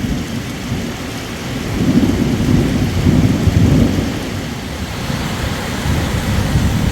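A thunderstorm over Omsk during a summer walk, heavy rain hissing steadily close by while deep thunder rolls and swells through the middle, with no voices.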